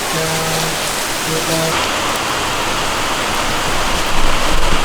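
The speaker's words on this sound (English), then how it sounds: "Rain na, it's not at all stopping." Heavy rain pours steadily outside a garage during a downpour in a low-lying area, a dense constant hiss with brief talk near the start.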